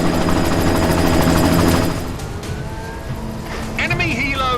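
An enemy helicopter in Deus Ex: Mankind Divided roars loud and close with dense rotor and engine rumble, fading somewhat midway as whooshing effects and radio-style voices come in over it.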